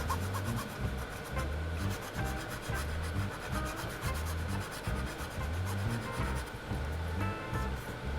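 A part of a Batman-style popcorn head for an RC car is rubbed back and forth by hand, first with the coarse side of an abrasive and then with the fine side, making a steady, rhythmic, close scratchy rasp with no talk.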